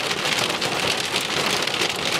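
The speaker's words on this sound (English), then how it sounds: "It's like a huge rain." Heavy rain pours steadily, a dense, constant hiss of drops drumming on a surface close by, with no voices.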